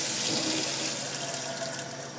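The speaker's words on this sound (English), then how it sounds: "Turn that water onto cold," Cold tap water runs into a sink during homemade soap making, a steady close splashing rush that eases slightly toward the end, with no talking.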